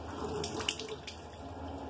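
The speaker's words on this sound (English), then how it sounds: "So I'm letting the water run." Clean rinse water running steadily from a washing machine as it drains, with a faint splashing and trickling under low background noise.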